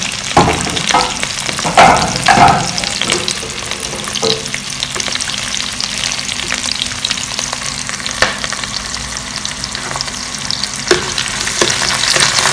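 Onions and cumin seeds fry in hot oil while a spoon stirs and scrapes the pan, a loud close crackling sizzle with repeated stirring knocks and no voices.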